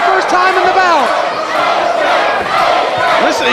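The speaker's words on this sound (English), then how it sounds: "We got an AJ chant and we got a Joe chant competing with each other" Wrestling arena crowd during an AJ Styles versus Samoa Joe bout, loud dense roar of many voices with rising chant-like shouts throughout, steady and close.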